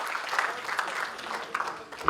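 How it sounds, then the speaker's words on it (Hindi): Applause from the audience at a national poets' gathering, a soft, steady patter that stays fairly faint and distant for about two seconds. "मैं अपनी कंपनी के लिए भी आप एक बार तालियां मांगता हूं।"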